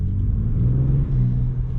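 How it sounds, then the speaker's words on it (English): A Ford Ranger Raptor V6 set to its loudest exhaust mode idles nearby with a deep, steady, throaty rumble that swells slightly partway through. "I've put it in the loudest exhaust mode."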